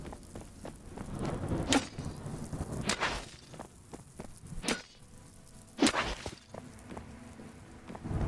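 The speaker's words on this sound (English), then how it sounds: "I think it's one of those light storms in the game where it's just going to rain" Light rainstorm in the survival video game Smalland, a steady wash of rain with scattered sharper bursts and cracks, continuous and fairly close without any talking.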